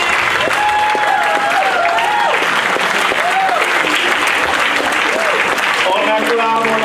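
A church congregation applauds and cheers together during a lively worship service, broad continuous clapping under a loud singing voice and sustained organ or keyboard tones.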